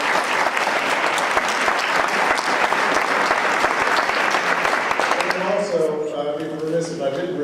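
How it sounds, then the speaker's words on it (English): Audience applause for Algenon at the closing of the 2012 Livable Communities Summit, dense steady clapping that fades out near the end as a voice begins speaking. "we'll give him a round of applause"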